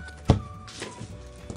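A single firm thud of a football kicked hard at goal during a backyard penalty shootout, one sharp near impact followed by quiet outdoor ambience.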